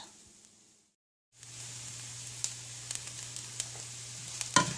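Rice toasts in a pan for restaurant-style Mexican rice, giving a steady close sizzle with scattered crackles and pops after a brief quiet gap, and no talking.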